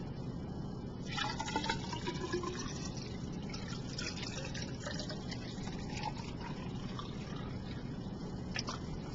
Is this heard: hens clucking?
no